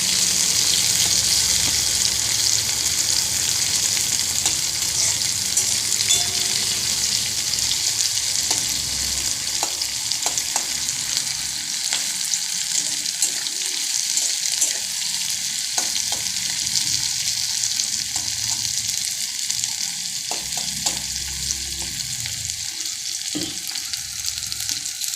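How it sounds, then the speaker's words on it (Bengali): Onion and green chili frying in a pan give a loud, steady sizzle throughout, close up, with occasional stirring clicks and scrapes and no talking. "এবার পেঁয়াজ কাঁচা লঙ্কাটা একটু অল্প অল্প ভেজে নেব,"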